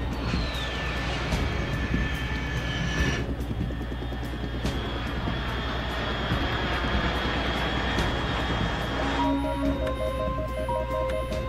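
Aircraft engine drone from the Metal Gear Solid 3 video game, a steady loud continuous roar held throughout with tonal whines layered over it, shifting partway through as other game tones enter near the end.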